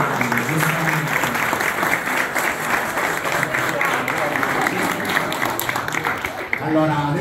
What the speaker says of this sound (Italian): naturalmente Francesco Capirò, quasi si merita un applauso più grande, giustamente